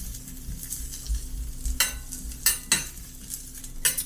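Donair meat sizzles in a hot pan as it is cut and flipped, with sharp scraping strikes of a metal utensil at irregular intervals over a constant frying hiss.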